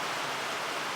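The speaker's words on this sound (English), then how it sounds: "the rain just started" Heavy rain pouring outside an abandoned workshop, a dense, even, hissing roar with no separate drops or voices over it.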